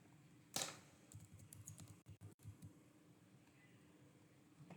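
Keys on a computer keyboard tap in short irregular bursts, quiet and close, with one sharper knock near the start and brief dropouts partway through.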